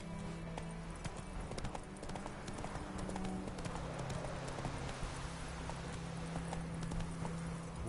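Roach, a horse in The Witcher 3, walks along with steady, continuous clip-clopping hooves over a low ambient game background.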